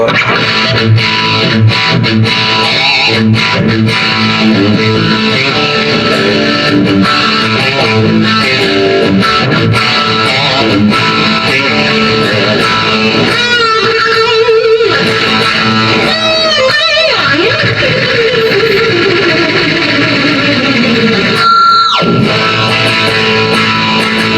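A Washburn N4 electric guitar with a padauk body and a Bill Lawrence pickup, played through distortion, gives a loud, continuous driven riff with chords and single-note slides, played solo without talk.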